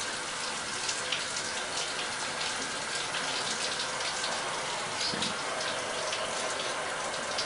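Running shower water hissing steadily and close, an even broadband spray with no pauses, alone and without talk for the whole stretch.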